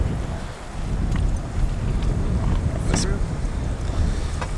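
Gusty wind at a campsite beside the Deschutes River in Central Oregon, a continuous rough roar buffeting the microphone, with a few faint clinks and a brief sharp tap.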